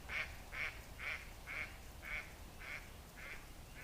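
A duck quacks over and over in an even rhythm, about eight quacks at moderate distance, with light outdoor background noise.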